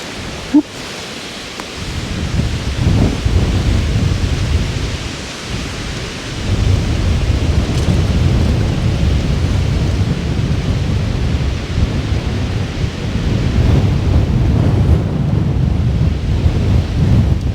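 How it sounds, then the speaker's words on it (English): Strong wind buffets the microphone in a steady, loud roar near rocky water while fishing, with gusting rumble and surging noise throughout and no talk. "The wind's blowing hard right now."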